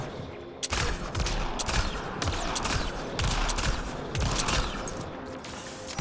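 Rapid turret gunfire in the sci-fi shooter Mass Effect: Andromeda, dense repeated bursts starting sharply after a brief quiet, loud and continuous with short pauses, no talking.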